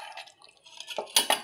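A kadai is washed with a few quick clinks and scrapes of metal against the sink, with light splashes of water, close and brief with no talk.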